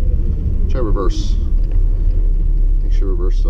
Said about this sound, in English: Make sure reverse still works in the truck.